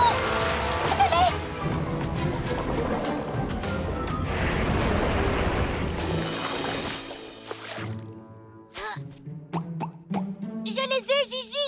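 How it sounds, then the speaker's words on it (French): Steady rushing, splashing water fills the first several seconds, followed by intermittent plops and bubbling sounds with occasional tonal chirps. "On dirait une sorte de fontaine ou un ruisseau ou une inondation."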